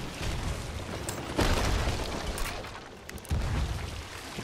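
Ship cannon firing in the pirate game Sea of Thieves, heavy booming blasts layered over a dense, roaring, noisy background, with several loud thuds in a few seconds.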